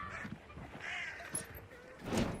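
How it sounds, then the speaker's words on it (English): Crows caw faintly in HUNT: Devil's Trail, a few hoarse calls scattered over a quiet game backdrop, the last one slightly stronger. "I'm hearing birds."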